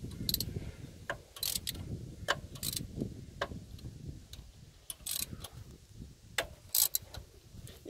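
Clicking ratchet driving a manifold bolt home on a Ford EF Falcon, a series of short sharp ticks and bursts scattered over a low, rumbling background, moderately close.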